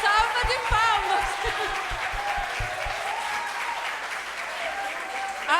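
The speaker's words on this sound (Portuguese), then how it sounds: "uma salva de palmas" A church congregation claps for a woman who has been cured, with a brief rhythmic clapping at the start, then broad applause under the voices of people talking and cheering.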